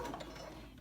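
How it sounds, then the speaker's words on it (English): A sewing machine stitches a skirt seam at a 5/8-inch seam allowance, a faint, steady mechanical whir and clatter heard close up for under a second with no voices. "Go ahead and begin sewing"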